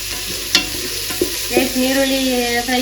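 Onions frying in hot oil with cinnamon and cloves, a close steady sizzle broken by a few sharp scrapes and clinks of a stirring spoon against the pan, no talking.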